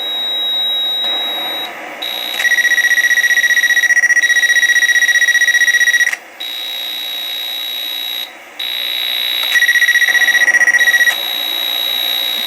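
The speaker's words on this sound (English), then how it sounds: "And now we'll do the rotate sound." Ship rotate sound effect from a 1974 Computer Space arcade board set under repair: loud, steady electronic tones with an extra pitched layer switching on and off in stretches, interrupted by short gaps.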